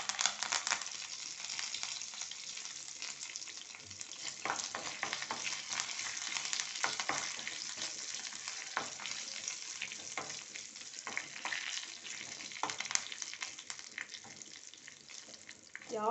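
Asafoetida and curry leaves sizzle in hot oil as a tempering for okra sambar, a steady dense crackle running the whole time with scattered sharper pops and spits, close and fairly loud, no voice over it.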